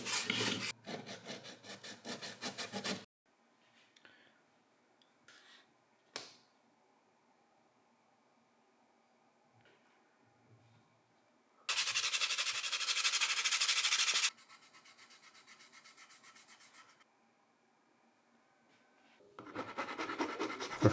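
Wooden planks on a ship model hull, a Sherbourne 1763 second planking layer, sanded by hand: several loud bursts of close rasping strokes with quiet pauses between them, no talk.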